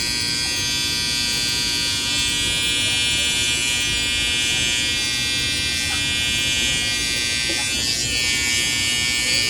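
Electric hair clippers trimming hair during a barbershop-style haircut, a loud, steady close-up buzz running without pause throughout.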